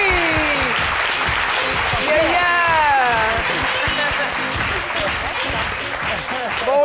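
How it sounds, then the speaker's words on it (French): A studio audience on the French midday TV show C'est Midi applauds loudly as guest Ghislain Dadié joins the set, with a steady dense roar of clapping over upbeat music, and voices sound in the background. "Ghislain Dadié, que je vous demande d'applaudir très très fort"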